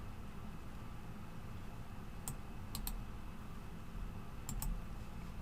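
A few sharp computer mouse clicks, in quick pairs, while copying a code, sitting over a quiet steady background hiss.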